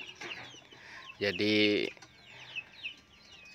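Free-range chickens on a farm give a loud, drawn-out clucking call in the middle, with softer clucks and chirps around it and someone speaking at the start.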